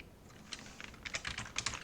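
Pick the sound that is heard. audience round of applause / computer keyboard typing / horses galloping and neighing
computer keyboard typing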